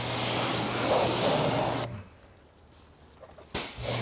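Water hisses loudly from a spray nozzle during car detailing, a steady close burst that cuts off and then starts again briefly near the end.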